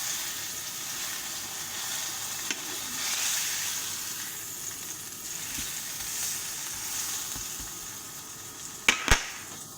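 A steak sizzles steadily in a hot frying pan, a continuous hiss that carries on throughout, with a few sharp clicks and taps near the end.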